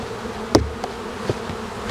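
Honey bees buzzing at an opened hive during a varroa alcohol wash, a close, soft insect drone with a couple of brief knocks and rustles.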